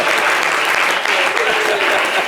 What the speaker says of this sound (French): C'est ça, applaudissez.